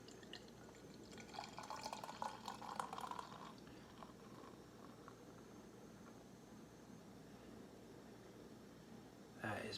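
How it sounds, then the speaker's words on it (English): Pils beer poured carefully into a glass: a steady liquid trickle and fizzing splash that swells in the first few seconds, then settles into a softer, even hiss, heard close up over a low background hum. "I'm going to pour this very careful because I don't want to screw it up."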